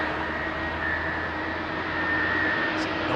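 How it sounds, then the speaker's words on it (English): A Boeing 787 departing Heathrow at night toward Singapore makes a steady, loud, broadband jet engine roar with a faint whine, continuous and alone. "It's a noisy old airplane"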